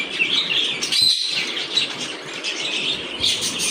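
Two birds calling near a veranda, bright high chirps and tweets repeating over a steady background, fairly close and clear.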